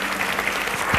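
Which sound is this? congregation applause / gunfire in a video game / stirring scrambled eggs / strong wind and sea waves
congregation applause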